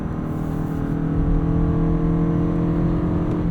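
A 2023 Toyota Crown Limited hybrid accelerating from a standstill to 60 mph, heard as a steady, loud engine and drivetrain drone with a hum of harmonics that holds throughout, with no talking.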